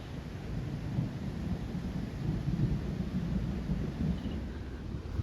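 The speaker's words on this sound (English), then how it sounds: "Y'all see that rain? Woo! It's coming." Heavy rain storm with low rumbling thunder rolling steadily outdoors, a dense continuous wash of rainfall and deep rumble filling the whole stretch, no voices.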